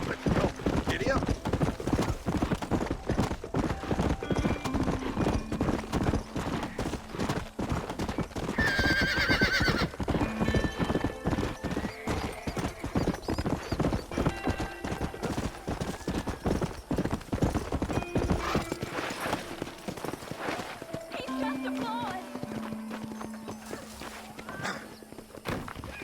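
Horse in the video game Red Dead Redemption gallops with rapid rhythmic hoofbeats, neighs loudly once partway through, then slows to a steady clip-clop, with game music and effects around it.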